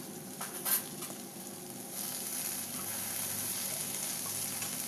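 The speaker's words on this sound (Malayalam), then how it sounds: "ഈ വഴുതനങ്ങ കഷ്ണങ്ങളൊക്കെ നന്നായിട്ട് ഫ്രൈ ആകുന്നത് വരെ ഫ്രൈ ചെയ്യാം" Salted eggplant pieces frying in a pan, a low, steady sizzle that swells slightly midway, with a brief clatter of stirring near the start and no voices.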